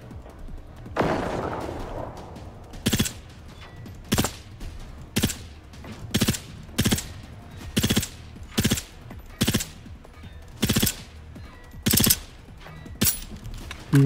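Bursts of gunfire from the video game Generation Zero, a loud opening volley followed by a dozen or so evenly spaced sharp shots over roughly fourteen seconds.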